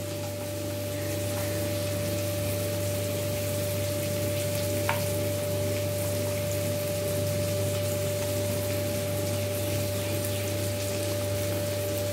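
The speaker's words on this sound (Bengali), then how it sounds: "পেঁয়াজের পর দিয়ে দিলাম এই কুচিয়ে রাখা রসুন" Chopped garlic frying with onions in a pan for chicken stew, a loud, steady, close sizzle that holds evenly throughout over a constant low hum.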